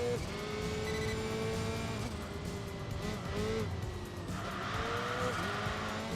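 A race car in Enthusia Professional Racing drifts into oversteer, the engine revving loudly and steadily while the tires squeal and skid with wavering pitch, close and continuous throughout.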